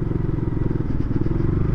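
Motorcycle engine running close by at Kagbeni, a steady low throbbing idle with a constant rumble throughout.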